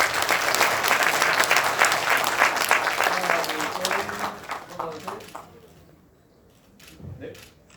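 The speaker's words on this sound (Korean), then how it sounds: "이 졸업생들에게 큰 박수 다시 한번 부탁드립니다" Audience applause for honored graduates at a Korea National Open University Incheon campus ceremony: dense, loud clapping that fills the room, then thins out and fades after about five seconds, leaving a few scattered claps and faint murmurs.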